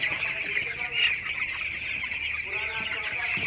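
Broiler chickens raised on the floor of a poultry farm, a dense continuous chorus of clucking from many birds close by, steady throughout with a faint voice underneath.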